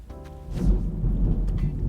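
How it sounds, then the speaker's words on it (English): A rolling rumble of thunder in an Animal Crossing: New Horizons storm, building into a loud, low boom over steady rain, heard without anyone talking. "That was thunder."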